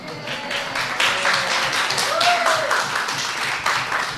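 An audience at a parish talk recorded for radio breaks into applause: steady, dense clapping that carries on for several seconds at moderate loudness, with a faint tonal whistle sliding through the middle.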